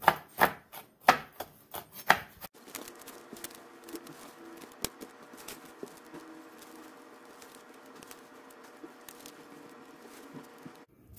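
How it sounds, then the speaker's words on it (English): Salted peanuts chopped roughly with a knife on a cutting board: a quick run of sharp, loud knife strikes in the first couple of seconds, then scattered lighter taps and scraping over a low background hum. "I'm just going to give these a rough chop here"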